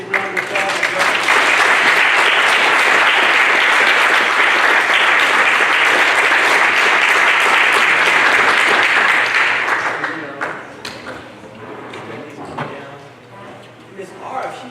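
A school board meeting audience gives the elementary principals loud, dense applause for about ten seconds, then it fades into scattered claps and murmuring voices.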